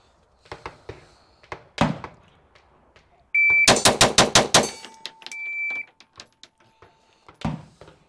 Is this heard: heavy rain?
no